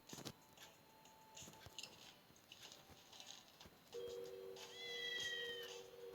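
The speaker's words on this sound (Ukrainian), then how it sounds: "Котик! Давайте його покормимо." A cat in the game Roblox gives several short meows, close and fairly soft, over quiet game ambience, with the last meow drawn out and louder.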